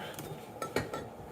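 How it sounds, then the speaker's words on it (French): Dishes being washed by hand, with cutlery clinking and plates knocking in a sink, several sharp clinks over a soft running background, fairly close. "on va faire la vaisselle"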